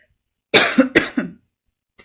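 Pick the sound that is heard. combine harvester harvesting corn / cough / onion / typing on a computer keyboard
cough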